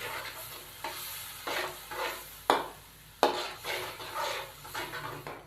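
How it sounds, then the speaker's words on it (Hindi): A spoon stirs chana dal pulao mixture with yogurt in a pot, making repeated scraping and wet mixing strokes with a couple of sharp metallic knocks and a low sizzle underneath, close and with no voices. "एक दफ़ा अच्छे से इसको मिक्स करेंगे।"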